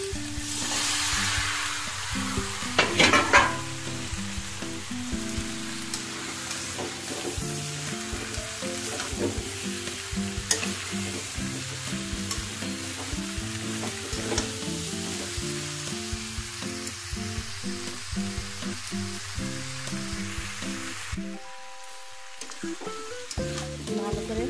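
Chopped vegetables sizzle loudly in a pan as they are stirred, a constant frying hiss with repeated scraping and clacking of a spatula, briefly quieter near the end.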